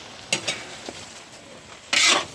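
Pancit bihon stirred in a pan: a few quick spatula scrapes and taps over a faint sizzle, ending in a longer, louder scraping stir.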